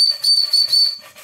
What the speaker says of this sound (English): I may try and lower the frequency of the whistle because it's very high pitched.